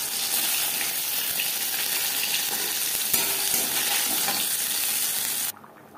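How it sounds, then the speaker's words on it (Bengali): Bengali five-spice and bay leaves tempering in hot oil left from frying fish, a loud, continuous close-up sizzle that holds steady before cutting off abruptly near the end, with no talk. "মাছ ভেজে নেওয়া তেলে ফোড়নে দিয়ে দিলাম 5 ফোড়ন, তেজপাতা।"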